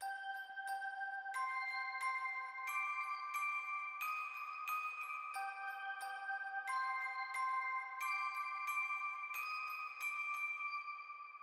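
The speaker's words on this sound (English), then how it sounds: "So the last thing that I did was I got this bell from Omnisphere," Omnisphere synth bell patch called Sweet Dreams 1 playing a slow melody for an emotional beat, with clear, ringing bell tones at a steady pace, sustained and alone with no voices.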